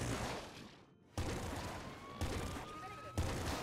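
Sniper weapon fire in the game Nuclear Throne: sharp loud shots with sudden onsets at roughly one-second intervals, each followed by sustained noisy decay and a rising tonal whine, with a near-silent gap before the first shot.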